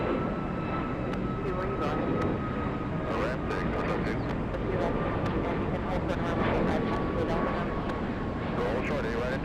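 A WestJet airliner, the Spirit of Canada, arrives from Calgary at Atlanta's Hartsfield-Jackson airport, its steady engine roar filling the air continuously with a faint whine on top.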